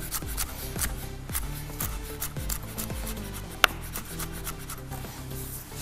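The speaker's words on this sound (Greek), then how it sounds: "και το ψιλοκόβω πάρα πολύ λεπτά" A kitchen knife finely chops a chili into thin slices on a board, giving a steady run of close, crisp cuts with soft scraping between strokes.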